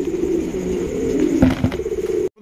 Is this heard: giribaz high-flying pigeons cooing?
yes